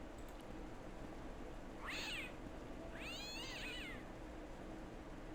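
A cat in the video game Broken Sword: Shadow of the Templars meows twice, two clear rising-and-falling calls about a second apart over a quiet, low ambient background.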